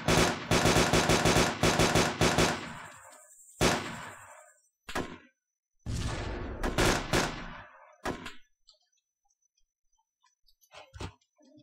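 Loud, close bursts of rapid automatic gunfire, broken by short pauses, then a few scattered single shots trailing off.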